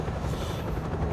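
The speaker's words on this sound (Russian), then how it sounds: "Нет, у Латвии нет своих вертолетов, это американские вертолеты." American Black Hawk military helicopters drone steadily with a continuous low rotor rumble, loud and close, with no talk.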